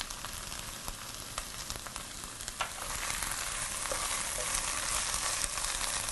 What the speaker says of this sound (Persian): اسفناج رو با این پیاز و هالپینو سرخش میکنم